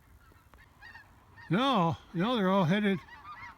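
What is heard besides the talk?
flock of geese honking overhead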